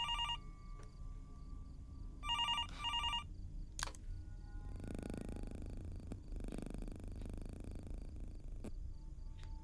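A telephone rings in the horror video game Fears To Fathom, two short bursts of trilling electronic rings separated by a pause, followed by low rumbling ambience and a few thuds.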